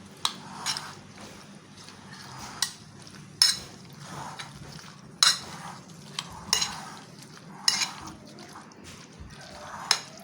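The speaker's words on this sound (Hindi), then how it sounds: "अब मैं इसे अच्छी तरह से मिक्स कर लेती हूँ इस तरह से" A spoon stirring Russian salad of macaroni and cabbage in a bowl: soft, wet scraping and mushy mixing, with regularly spaced clinks of utensil against the bowl, close and moderate in level.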